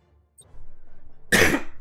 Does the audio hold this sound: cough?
yes